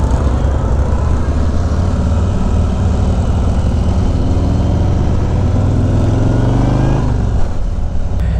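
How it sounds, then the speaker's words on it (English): A Harley-Davidson Touring motorcycle fitted with a Vance and Hines Eliminator 400 exhaust rumbles loud and close while riding around a parking lot, a steady deep throb with a brief shift in pitch near the end. "in the interest of y'all being able to hear this exhaust with it not like clipping, we're gonna ride around the parking lot real quick"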